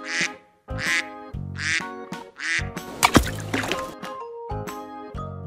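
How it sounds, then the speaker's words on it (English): Duck quacking repeatedly in a steady rhythm, loud and close, with a brief squishy liquid splash in the middle. "Duck."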